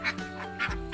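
Egg-laying ducks on a small duck farm quack in a few loud, close bursts, with a low honking call and a steady hum underneath.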